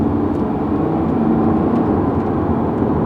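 Mercedes CLS accelerating hard, a steady loud broadband engine and road roar heard from inside the cabin, continuous with no voices.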